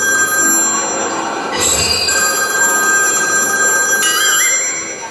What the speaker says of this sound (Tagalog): ang daming tumatawag